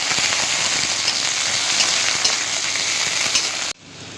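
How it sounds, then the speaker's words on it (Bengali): Garlic sizzles hard in hot mustard oil in a wok, a dense, loud, steady frying hiss with crackling spatters, cutting off abruptly near the end to a quieter residual sizzle. "রসুন দিয়ে একটু ভেজে নিচ্ছি"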